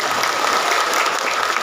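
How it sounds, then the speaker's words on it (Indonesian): An audience at an Islamic religious gathering breaks into applause, a dense, steady clatter of many hands clapping close by, loud and even for the whole moment, with no talk over it. "tepuk tangan untuk IMBS"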